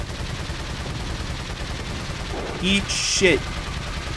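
Gunfire in the video game Resident Evil 4, a short burst of shots over background game ambience, with a voice speaking briefly.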